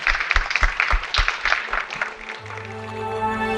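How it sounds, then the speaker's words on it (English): Audience applause at a Web3 Summit fishbowl discussion on self-sovereign identity: a burst of dense clapping from a crowd that thins out after a couple of seconds, with a steady hum and faint tones left beneath it. "Can I get a round of applause for everyone that participated?"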